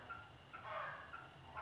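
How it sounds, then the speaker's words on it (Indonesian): A rooster crows at a distance, its drawn-out call rising and falling over a faint, steady background hum. "Saya mendengar ada ayam berkokok."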